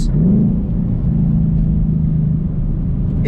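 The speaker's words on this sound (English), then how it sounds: "sounds great because you have that valved exhaust" Deep, throaty exhaust rumble from a manual Ford Roush Mustang with a Roush kit and valved exhaust, idling and cruising close by, steady and loud with a low burbling drone.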